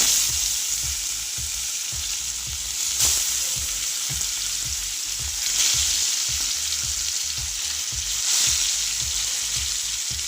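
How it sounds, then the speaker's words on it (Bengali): Pieces of rohu fish sizzle and crackle steadily in hot oil in a home kitchen pan, with soft stirring knocks at a regular pace and a few louder bursts of spitting. "তেলটা গরম হয়ে গেছে, দেখুন আমি একে একে মাছগুলো ছাড়ব"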